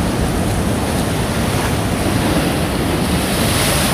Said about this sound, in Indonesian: di depan kolam renang terbentang pinggir pantai dengan debur ombak yang keras, namun suara ombak menenangkan hati.